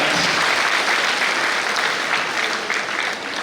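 An audience at a pre-university college's annual celebration in Hemmadi breaks into sustained applause, a dense wash of many hands clapping at steady loudness that eases slightly near the end.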